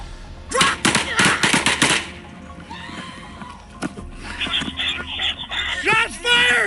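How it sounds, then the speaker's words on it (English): A rapid burst of gunshots goes off during a police confrontation at a traffic stop, sharp and close, followed by shouting voices and commotion. "Shots fired."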